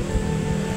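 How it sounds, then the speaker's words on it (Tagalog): Steady, loud wind roars and buffets without a break, a broad rushing noise that stays constant throughout. "sobrang lakas ng hangin, Kakuridas."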